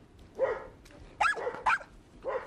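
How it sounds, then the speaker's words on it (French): Dog barking and whining indoors, giving a few separate short yelps and barks with pitch-bending whimpers between them, fairly close and moderately loud. "Ce sont les hurlements, hurlements à la mort, en particulier chez les chiens qui sont laissés seuls et qui sont anxieux."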